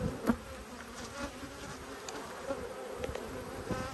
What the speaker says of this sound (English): A lot of bees in the air.